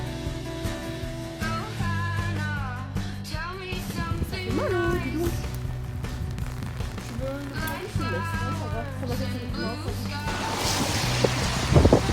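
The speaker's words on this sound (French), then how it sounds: "Il y a un petit peu de vent." Wind blows outdoors on a cold winter day, a steady rushing buffet across the microphone that swells toward the end, with a voice and other sounds over it.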